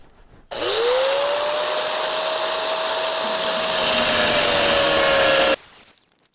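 Power saw cutting through wood for four 12-inch uprights, a continuous loud whine with a steady tone lasting about five seconds, close up, starting and stopping abruptly.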